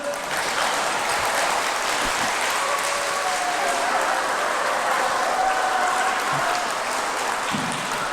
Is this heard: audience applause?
yes